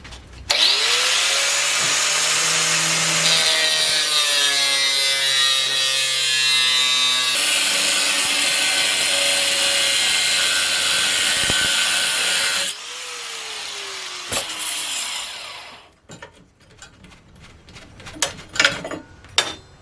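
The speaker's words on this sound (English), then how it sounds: "just get my gloves on and angle grinder." Loud, close angle grinder cutting metal for a saw blade baseball bat build, a sustained high whine with shifting pitch through several cuts, spinning down near the end before a few light clanks.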